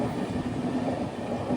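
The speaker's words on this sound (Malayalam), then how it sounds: "ട്രെയിൻ ഇപ്പോൾ ഈറോഡ് ജംഗ്ഷനിലേക്ക് ഇതാ എത്തുകയാണ്" The Navyug Express passenger train rolls along the rails near Erode Junction, making a steady, dense rumble and clatter that is heard from inside the coach and holds constant throughout, with no voices.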